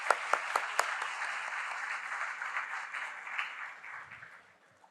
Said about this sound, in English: let's give a huge round of applause for all the young people here